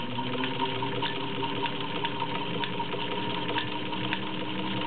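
Vintage mint-green Singer 15-125 with a potted motor stitching through five layers of denim, a steady, even mechanical whir and rapid needle chatter running continuously at moderate speed.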